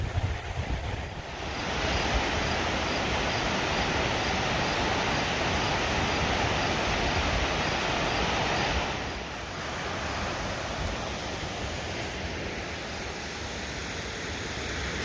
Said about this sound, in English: listening to the waves crash up against the shore